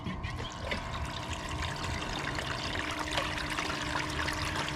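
Steady rushing and trickling of water flowing continuously through a gold-prospecting sluice fed by a bilge pump, a broad even wash of sound with no pauses.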